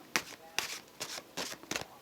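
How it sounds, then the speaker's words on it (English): A tarot card deck is shuffled thoroughly in five quick riffling bursts, close and fairly quiet, with short pauses between each pass. "a very, very thorough shuffle"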